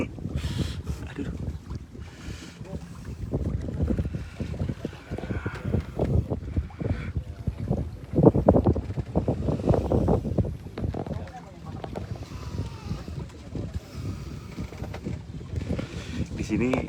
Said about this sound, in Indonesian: Di sini anginnya sangat kencang.